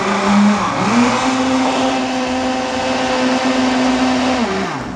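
A kitchen blender whirs steadily while beating a condensed milk pudding mixture, a loud continuous motor drone with a slight dip in pitch near the start, then running evenly until it winds down at the end.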